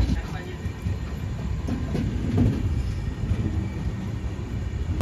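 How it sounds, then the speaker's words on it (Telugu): A Kakinada–Lingampalli Special Express rolls into Nidadavolu station, a steady heavy rumble of wheels and carriages with faint clatter throughout, heard from on board and continuing evenly to the end. "ఇప్పుడైతే మనం నిడదోలు రైల్వే స్టేషన్ లోపలికి అయితే వెళ్తున్నాం"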